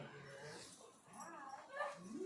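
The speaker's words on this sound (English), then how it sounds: "Hold on, don't get the dogs going," Dogs whimpering and yipping indoors, soft high whines rising in short bursts, faint and close, mixed with a person talking.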